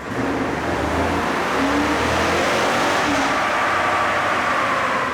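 A V8 Silverado 1500 pickup engine roars steadily under load on a dyno in third gear, revving high and loud with a constant droning hum throughout.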